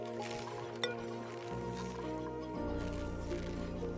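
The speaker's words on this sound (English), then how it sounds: "It should be dumping polluted water over here" Polluted water is dumped in the Oxygen Not Included video game, heard as wet squishing and dripping liquid sounds over a steady, droning game-music tone, with one brief sharp click partway through.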